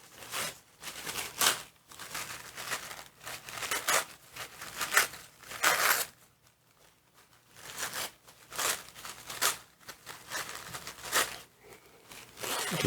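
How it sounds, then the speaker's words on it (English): Paper torn by hand in a series of short, crisp rips with brief pauses between, close and fairly loud, no talking. "sometimes I just tear the piece"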